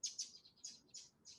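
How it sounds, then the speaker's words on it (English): Small birds chirp outdoors in quick, bright bursts, four or five short calls over a second and a half, faint and somewhat distant. "there's some nice birds outside"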